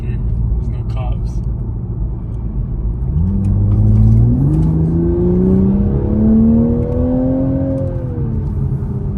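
A Toyota Supra engine revs up in a rising sweep, pulling through one gear change as the car accelerates, loud and close from inside the cabin, with people talking over the engine.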